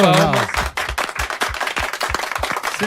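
Scattered, uneven hand claps during a sports show broadcast, sharp separate claps in a loose rhythm following a brief bit of voice at the start.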